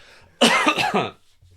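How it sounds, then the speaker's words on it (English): A single short, harsh throat-clearing burst close to the mic, rough and raspy for under a second, with quiet surroundings before and after. "Excuse me, just clearing my throat."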